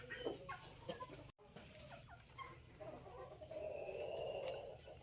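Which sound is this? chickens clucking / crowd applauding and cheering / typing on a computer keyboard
chickens clucking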